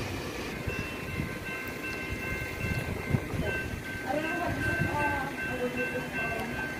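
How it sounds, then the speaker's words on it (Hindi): Train passing a railway crossing in Australia with cars stopped, a rumbling rail roll with a long steady horn-like tone, plus faint bell or squeal tones near the end, heard under people talking. "ये देखिए सभी गाड़ियाँ रुकी हुई हैं, ट्रेन आ गई।"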